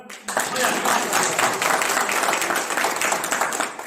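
An audience at a poetry gathering in a temple breaks into applause, a loud burst of clapping that starts abruptly and continues steadily, with some voices mixed in.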